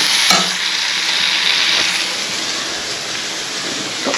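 Pasta masala with coriander being stirred in a frying pan, with a steady broadband sizzle and scraping stir sounds running continuously, close and fairly loud, one sharp clack near the start, no voices.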